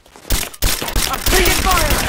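Gunfire rattles in a Rise of the Tomb Raider firefight, with loud, dense bursts of rapid shots after a brief quiet start, close and relentless, with shouted voices mixed in.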